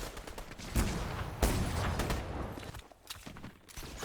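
Combat shotgun blasts in Fortnite, a few sharp booming shots spaced apart among softer game noises and movement sounds, moderately loud.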